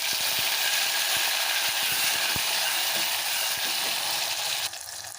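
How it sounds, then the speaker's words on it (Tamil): Garlic and onion hit hot oil for kara kuzhambu, setting off a loud, dense sizzle with rapid crackling pops that stays constant before dropping off sharply just before the end. "இப்போ இந்த பூண்டு வெங்காயத்தை போடலாம்."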